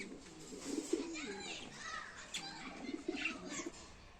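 A breeding pair of caged birds coos softly in low, rolling calls as someone talks over them nearby.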